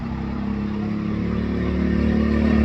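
A Chinese kids' 125 ATV converted to a Predator 212 engine runs at about half throttle, a loud, close, steady engine drone with a low rumbling pulse that swells slightly near the end. No voices are heard.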